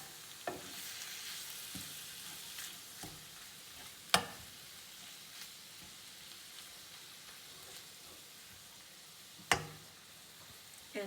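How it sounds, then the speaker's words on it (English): Ground beef browning in a pan for spaghetti sauce gives a steady soft sizzle, broken by a few sharp clicks and scrapes as a spoon stirs it now and then. "going to cook this until all of the meat is completely brown"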